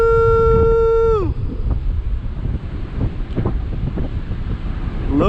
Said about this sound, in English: Look at Tello in extreme wind